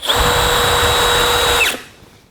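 Cordless hammer drill whirring steadily at speed 1 (about 550 RPM) driving a 1 5/8 inch number 2 screw, loud and close, then winding down and stopping near the end.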